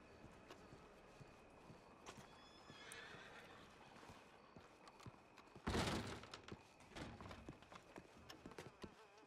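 In the Red Dead–style game WildRP, a horse clip-clops at a distance and gives a sharp, loud whinny midway, followed by scattered hoof thuds and light game ambience, with no talking.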